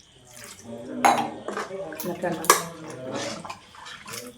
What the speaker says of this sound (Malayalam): അപ്പോൾ കുറച്ച് കൂടുതൽ വെള്ളം ഒഴിക്കാം.